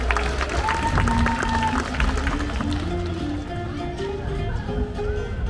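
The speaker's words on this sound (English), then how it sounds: "Okay, well, let's give a round of applause to Opie and his trainer." Audience applause in the stands at a SeaWorld San Diego sea lion and otter show, a steady wash of clapping from a large crowd heard at a distance, with some voices and tones mixed in.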